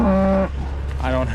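Cattle on a farm pasture moo loudly and close by, one long low bellow followed by a second call a moment later, with no talk over them.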